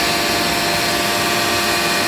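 A Bosch GCA 30-42 dust extractor starting up and running, triggered by tool vibration: a steady, loud broadband whir and roar that holds evenly throughout with no voices.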